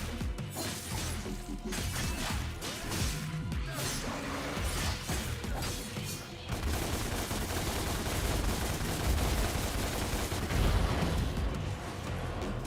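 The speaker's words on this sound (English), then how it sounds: "If I shoot him, even if he's on the ground, does that stun him?" Guns firing at a demon in the video game Devil May Cry: a dense, continuous barrage of shots and crashing impacts layered over loud, busy game sound throughout.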